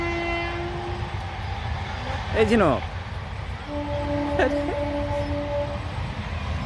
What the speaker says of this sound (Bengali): ঝাঁঝাঁ করে ট্রেন যাচ্ছে দুদিকে দুটো। এটা কোনো এক্সপ্রেস হবে, আর আগেরটা গেল লোকাল ট্রেন।